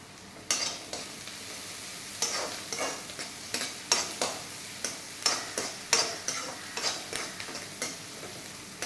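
Ingredients sauté in a pan until browned for an aloo atta poori and achar paneer meal. A steady, soft sizzle runs underneath while a spatula scrapes and taps the pan in a roughly regular rhythm.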